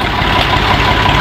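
A tractor engine idles loud and close, a steady low rumble that stays even through the whole short stretch, with no speech over it.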